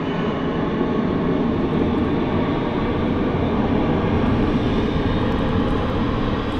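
Steady, loud broadband roar of a jet airliner in Etihad special livery taxiing slowly at Manchester Airport, a continuous engine rumble that holds evenly throughout with no voices over it.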